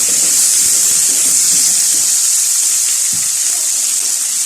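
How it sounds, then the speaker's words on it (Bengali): Cut potatoes fry in hot oil in a pan, giving a loud, steady hiss of sizzling with no pauses, close up and without talk. "দিয়ে দেবো কেটে রাখা আলুটা, আলুটাকে একটু ভেজে নেব।"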